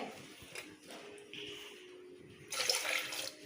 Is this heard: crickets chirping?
no